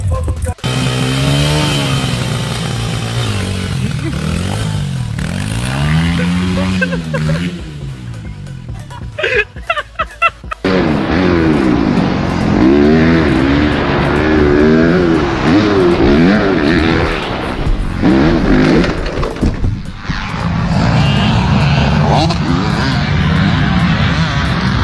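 A dirt bike engine revs loud and close, its pitch rising and falling in repeated throttle blips, with a brief drop in the middle before the engine roars back and holds steady.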